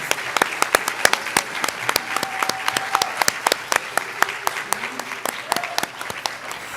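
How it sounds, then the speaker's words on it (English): A crowd at a high school hall of fame induction ceremony applauds the inductees and their families, with steady, sharp, dense clapping throughout and some faint voices underneath. "Can we give a round of applause for all the inductees and families?"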